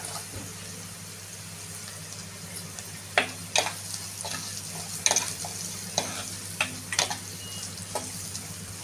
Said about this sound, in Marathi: चिरलेला लसूण थोडा हलवून घेऊया कांदा